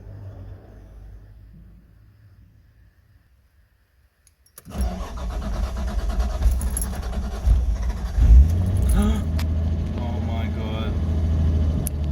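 A long-unused car's engine cranks and catches after a quiet start, then runs with a rough, uneven idle and a sharp rev surge, close and loud, with people talking nearby.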